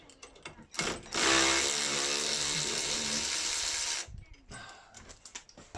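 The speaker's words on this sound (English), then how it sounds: "Power tools." A power tool whirs loudly for about three seconds during brake work on a Ford Fiesta, a steady high mechanical buzz, framed by clicks and handling noises before and after.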